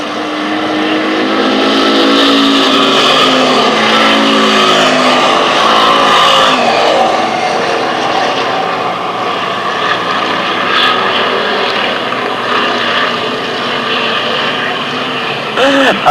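Race cars roar around Lancaster Speedway on the final lap of the US Open, a continuous loud engine drone with passing swells and Doppler shifts from start to finish.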